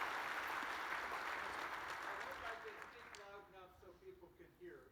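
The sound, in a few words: audience applause after keynote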